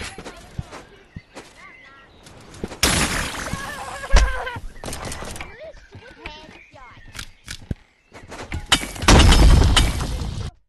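Gunshots and shattering impacts in the VR game Animal Company during an arena-mode match, several sharp bursts scattered through the stretch with a heavy cluster near the end, mixed with talking voices.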